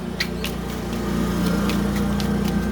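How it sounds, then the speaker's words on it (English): Lawn mowers run outdoors at a steady distance, a continuous low engine drone with a slight rise in level, heard alone without talk. "Please excuse the lawnmowers outside."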